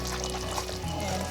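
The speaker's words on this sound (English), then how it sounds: "And finally you put in the coconut, which is just about this much" Coconut milk pours steadily into simmering mee rebus gravy in a home kitchen, a continuous close, wet splashing pour lasting the whole moment with no talk over it.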